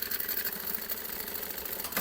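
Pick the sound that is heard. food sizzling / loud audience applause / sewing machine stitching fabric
sewing machine stitching fabric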